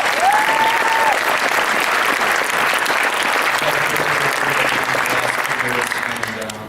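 A crowd at a Michigan gymnastics ring presentation gives sustained applause for an athletic director, a dense, loud roar of clapping with a brief whistle near the start, tapering off in the final second.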